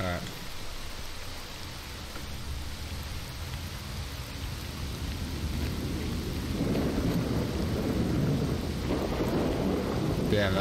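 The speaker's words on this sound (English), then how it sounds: "Damn, that lightning is awesome." A thunderstorm with steady rain in S.T.A.L.K.E.R. Shadow of Chernobyl fills the clip with a broad hiss, and a deep rumble of thunder swells in the second half.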